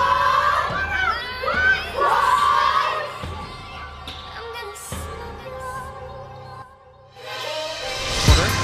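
A rowdy, raucous arena crowd roars and shouts during a Syracuse vs. Pittsburgh basketball game in the Carrier Dome on a Sunday afternoon, with loud swelling cheers, a brief dip and another surge near the end.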